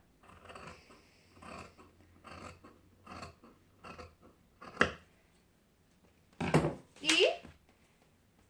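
Scissors cut fabric for a flared skirt in a series of soft, rhythmic snips close by, followed by a few sharper louder cuts near the end, with quiet background between strokes.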